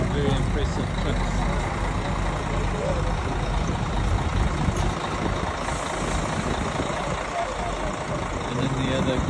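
Trucks drive along a snow-covered road during a blizzard, with a loud, steady engine rumble and road noise filling the scene continuously and close by, while people talk over it.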